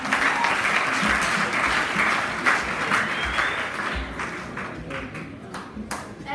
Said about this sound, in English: It's a round of applause for them.